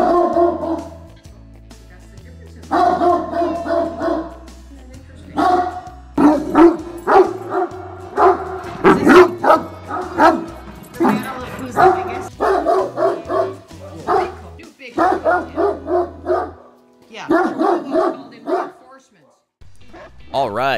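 A Great Dane barks over and over, loud and close: deep, booming barks come in uneven bursts, some spaced singly and some in quick runs, with short pauses between groups.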